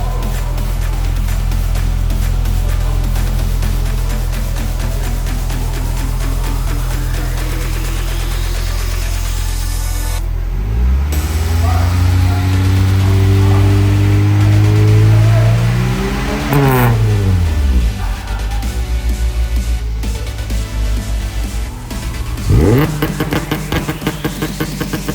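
A 1999 Honda Civic LX with a swapped B20 engine, a no-cat resonated test pipe and a stock header idles loudly and then revs hard in repeated rising and falling sweeps, close to the car.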